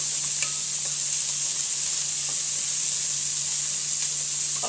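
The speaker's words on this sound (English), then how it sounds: "I like to use a wooden spoon to stir it." Texas-style chili sizzles steadily in a pan while a wooden spoon stirs it, a constant bright frying hiss with faint occasional scrapes and no voices.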